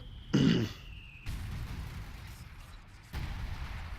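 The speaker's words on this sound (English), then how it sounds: "Grenade goes in." A grenade bursts in a WWII battle game, one loud short thump followed by low rumbling battlefield ambience that drops and returns.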